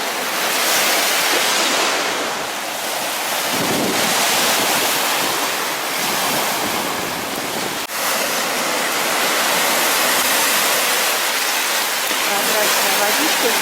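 Waves wash against the icy shore of Lake Ladoga in early spring: a continuous, loud broadband rush of water with gusts of wind buffeting the microphone, steady and close throughout.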